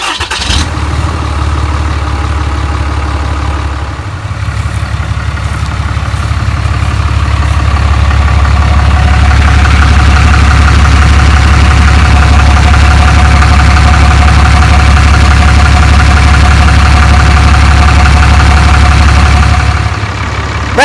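Cummins 6.7 diesel engine fires up after an oil change and settles into a loud, steady low-pitched idle rumble with a slight knocking clatter, running close by for about twenty seconds.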